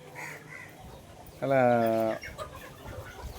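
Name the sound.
country chickens clucking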